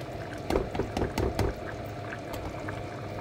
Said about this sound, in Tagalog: At lalagay po natin yung kakanggata.